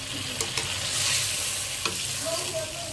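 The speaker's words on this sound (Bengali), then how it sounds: "তারপর আমি দেখেন তরকারিটাতে ঝোল দিয়ে দিচ্ছি।" Broth poured into a sizzling rohu fish curry in a pan, giving a steady close hiss with a few soft clinks and bubbling splashes, no talking.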